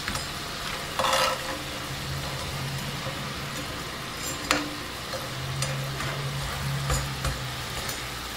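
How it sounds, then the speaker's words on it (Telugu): Potato murukulu fry in hot oil with a steady, close sizzle throughout, broken by a few clinks and stirs of a utensil. "ఒక సైడ్ కాలేక 2 వైపులను కూడా తిప్పుకుని 2 వైపులా కూడా ఎర్రగా వేయించేసుకోండి."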